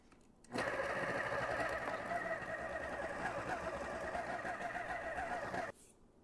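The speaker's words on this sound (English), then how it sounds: "Let's mix this on low until everything's together." Stand mixer kneading bread dough for Japanese-style rectangle bread on low speed, a steady continuous mechanical whirr with a rhythmic motor drone that starts abruptly, runs evenly for about five seconds, then cuts off.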